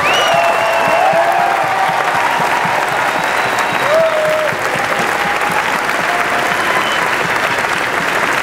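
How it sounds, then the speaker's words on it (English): Sustained, loud round of applause from an audience at a professional bodybuilding awards show, the 2017 Arnold Classic Pro USA, steady dense clapping throughout with faint crowd noise and a few whistles. "if y'all could please just join me in a round of applause to appreciate these guys here"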